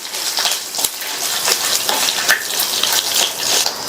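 Garlic cloves frying in hot oil in a pan, a dense crackling sizzle with small pops and stirring scrapes, steady and close throughout with no talk.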